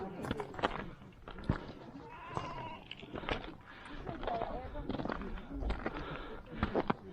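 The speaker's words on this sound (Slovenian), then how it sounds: "Tole je ovce." Sheep bleat on a mountain route in September, a mix of scattered bleats at moderate distance over windy outdoor ambience with occasional footsteps and faint voices.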